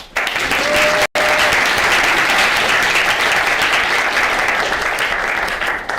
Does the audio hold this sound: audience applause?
yes